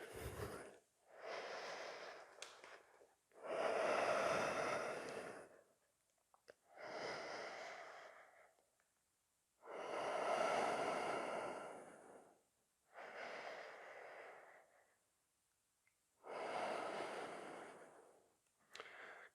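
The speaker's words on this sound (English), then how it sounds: "Consistent breathing throughout." Steady, deliberate breaths during a full-body yoga strength workout: slow inhales and exhales every few seconds in an even rhythm, close and clear, with no talking.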